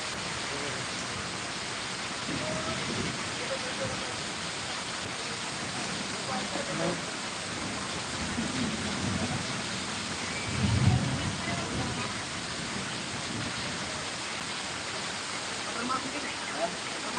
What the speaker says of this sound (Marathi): पाऊस चालू पाऊस चालू पाऊस चालू